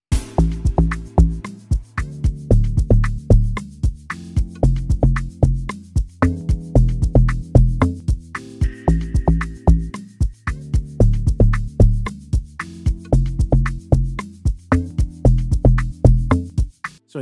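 A deep, punchy amapiano log drum plays a repeating syncopated bass pattern called a tryout, loud and close, looping steadily over a crisp percussive beat.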